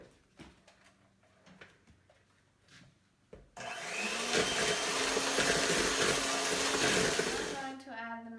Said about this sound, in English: now we're going to come over here and mix it with the mixer